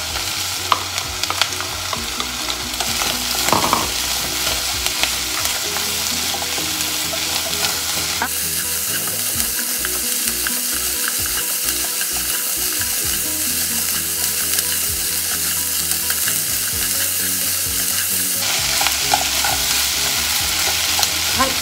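Potatoes and carrots stir-fried with softened onions in oil for clam chowder over medium heat: steady loud sizzling with repeated scraping and stirring of the pan throughout, no voices.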